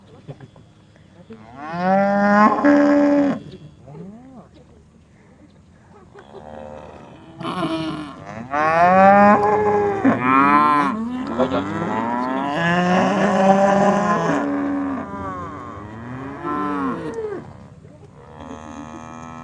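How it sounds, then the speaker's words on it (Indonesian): Several cows moo loudly in long, harmonic calls that answer one another back and forth, heard up close at a farm in Baturaden near Purwokerto, with a short pause between the first call and the following cluster. "Gimana bunyinya sapi?"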